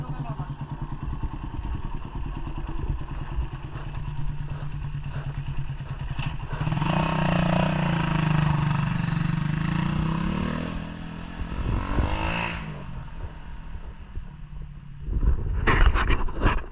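A ported Suzuki Raider 150 motorcycle idles with a rough, uneven misfire, its engine chugging loudly up close, surging mid-way and then revving briefly near the end; faint talk may sit underneath.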